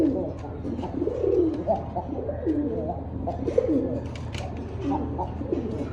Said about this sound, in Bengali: দেখেন নটটা প্রচুর ডাকে দর্শক প্রচুর ডাকে